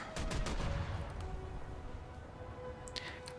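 Automatic cannons aboard a German cruiser fire in a naval combat video game, with a rapid cluster of sharp shots early on, then fainter scattered reports over a rumbling background.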